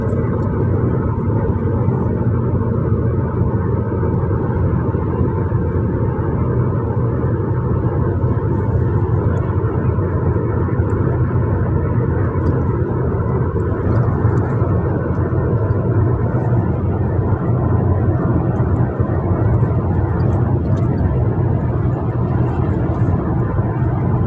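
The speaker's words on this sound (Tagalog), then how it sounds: "Paglapag ng aeroplano" Airplane landing at the end of a flight back to Dubai, heard as a steady, loud engine rumble and roar that continues without break, with no talking.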